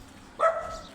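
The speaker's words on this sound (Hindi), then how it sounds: "जब मैंने कहा मुफ्ती तो ये भोंकना शुरू कर दिया कुत्ते ने।" A dog on a street in Gulshan Faiz Colony, Multan, lets out a single sharp bark partway through, with a short trailing tail. It sounds moderately close against faint background hum.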